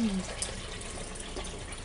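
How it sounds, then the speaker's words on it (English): A large can of beef broth is poured into a pot, a soft liquid splash and trickle heard faintly in a kitchen. "we're going to pour a big giant can here of beef broth"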